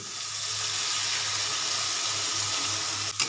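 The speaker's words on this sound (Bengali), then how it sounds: "গরম জলটা দিয়ে দিই সেদ্ধ হতে হবে" Hot water pours steadily into a pan on a gas flame for cooking Maggi noodles, a continuous close splashing rush with a faint sizzle and a small clatter at the end.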